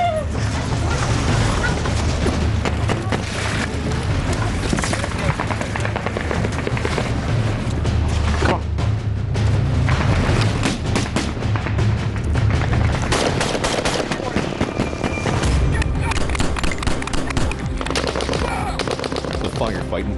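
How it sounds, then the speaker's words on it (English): Continuous gunfire in a military firefight, dense machine-gun bursts and booming shots layered into a loud, unbroken barrage, with shouting voices mixed into the chaos. "Firefight intensifies."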